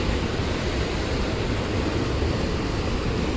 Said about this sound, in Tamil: ஆனால் செம்மையாக போகுது தண்ணி.